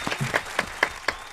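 A brief round of applause at an interview, a few sparse, separated claps landing roughly every quarter second rather than a full crowd roar.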